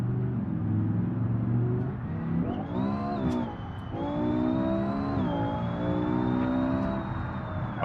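Car engine in sport mode in the BeamNG driving game, a steady close drone that climbs in pitch as it revs up through gears, with a brief dip and rise midway, no voices.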